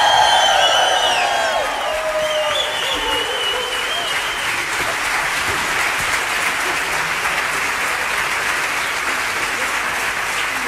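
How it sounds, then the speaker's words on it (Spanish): Loud, sustained applause from a concert audience for a choir and its accompanying musicians, with some cheering mixed in at the start, steady and dense for the whole stretch. "Y cómo no, el último aplauso, el más grande de la noche, para el coro."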